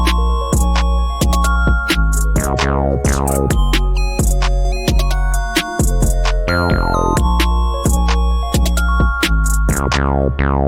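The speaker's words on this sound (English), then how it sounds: "because it's a bass sound." Distorted synth bass from an instrumental remake of a pop song, droning low and gritty under a dense, loud arrangement of bright plucked synth notes and percussion, continuous with no speech.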